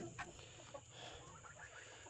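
Hens and turkeys shut in a chicken pen on a homestead, with soft scattered clucks and brief calls over a steady low background hum, fairly faint and without talk.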